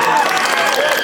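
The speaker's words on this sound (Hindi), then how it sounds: "जोरदार ताली हो जाए भाई" Audience at a live Hindi musical and comedy stage show breaking into applause: a short, loud burst of dense clapping, close and continuous.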